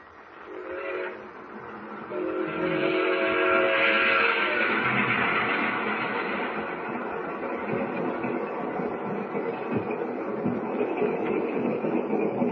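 A train rumbles steadily along the rails through wheat fields at night, loud and close, with a whistle sounding near the start over the continuous rolling noise.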